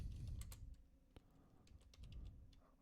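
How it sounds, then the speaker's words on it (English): Faint, scattered clicks from a computer keyboard come in short irregular bursts over low background rumble, with no talking. "I'm typing right now"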